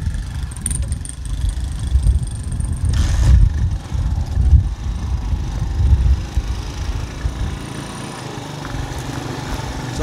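Motorcycles riding along on a trip to Naasog, a steady low engine rumble with throttle swells, close and continuous with no talking.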